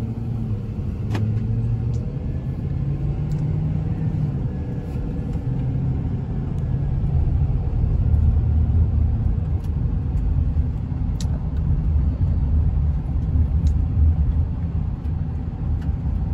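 A car drives along a rural road, its engine rumble loud and steady throughout with a slight swell in the middle, heard alone without voices.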